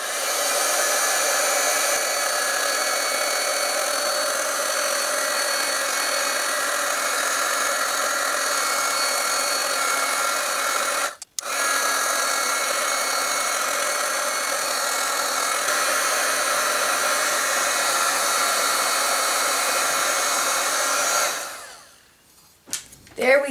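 A heat tool blows steadily and loudly while melting clear embossing powder on a card, a continuous hair-dryer-like whoosh with one brief cut-out midway, then switching off near the end.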